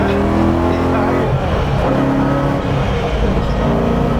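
A BMW E92 M3 track car accelerating hard and shifting gears, heard as a loud, continuous engine drone from inside the car, with short breaks in pitch at the shifts and voices talking under it.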